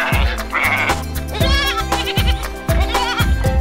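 Sheep bleating in a children's farm-animal nursery-rhyme setting, with repeated wavering bleats over a backing of music.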